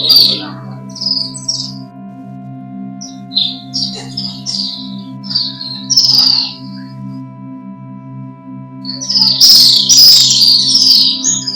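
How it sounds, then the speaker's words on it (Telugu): Birds chirp and tweet repeatedly outside a temple, with bright, scattered calls in short bursts and a busier cluster near the end, all over a steady low hum from the surroundings. "సౌండ్ వినిపిస్తుంది పక్షులు."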